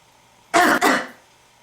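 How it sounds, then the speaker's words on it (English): One person gives a single harsh cough followed by a second throat-clearing burst, close and fairly loud, then silence. "Are you coughing into it?"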